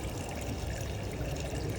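Water running from an automatic washroom tap, a steady soft trickling stream heard close and fairly quiet, continuous throughout with no talking.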